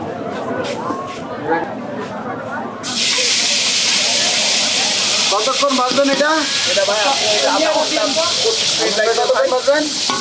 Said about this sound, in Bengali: এটা মাংস তেল দিয়ে মাংস ভাজে